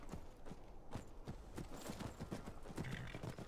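Horse hooves clip-clopping at a steady trotting rhythm while riding in the video game Skyrim, close and continuous over a soft outdoor ambience.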